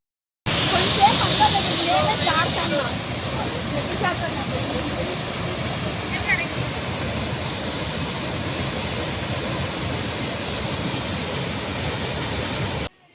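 A powerful waterfall in Munnar, Kerala roars as a constant, loud, broadband rush that fills the whole clip, with a faint voice barely audible beneath it.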